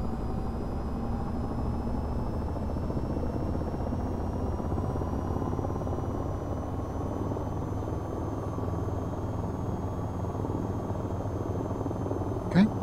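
A steady AH-94 helicopter rotor spinning up in the VTOL VR game, a continuous loud whine and drone with rising engine tones, holding evenly throughout with a brief thump near the end.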